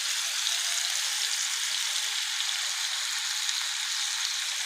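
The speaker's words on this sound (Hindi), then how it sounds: "चिकन जो है वो यहाँ से गोल्डन कितना प्यारा फ्राई हो गया है" Chicken tikka pieces fry in a pan with a steady, close hiss of sizzling oil that holds evenly throughout, bright and airy, with no voices.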